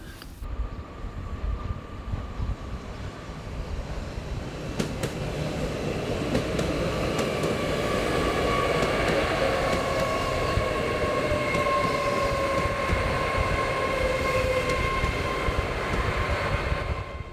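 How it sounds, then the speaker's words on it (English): A GWR Class 802 IET train rolls past a semaphore signal into a station platform, a steady rumbling approach building in loudness with rail squeal and rising horn-like tones, no talk. "This GWR Class 802 IET is passing the home down signal SE2 on its way into platform 1 heading towards Penzance."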